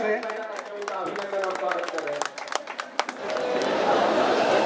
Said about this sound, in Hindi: ताली बजाएं कृपया थोड़ा जोर से।